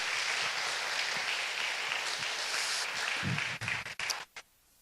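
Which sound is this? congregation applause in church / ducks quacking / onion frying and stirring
congregation applause in church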